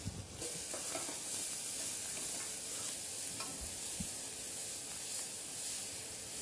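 Continuous close-up sizzling of finely sliced leeks frying in foaming butter, a steady crackling hiss with small pops throughout.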